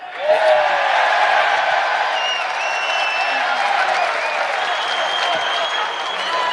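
A large crowd at a UFC 284 pre-fight press conference applauds and cheers loudly and steadily, a dense wall of clapping with whoops and shouts layered on top.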